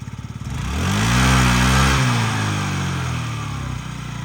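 A Yamaha Jog SA39 ZR fuel-injected scooter runs close by, swelling into a smooth rev and easing back to a steady, even hum with no talking.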